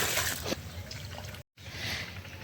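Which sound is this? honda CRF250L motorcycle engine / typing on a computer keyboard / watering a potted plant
watering a potted plant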